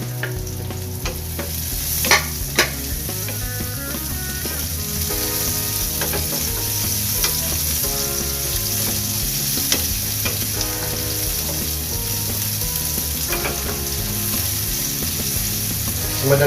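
Onions and garlic frying in a pan, a steady dense sizzle with occasional stirring clatters and utensil scrapes, close and continuous with no talk.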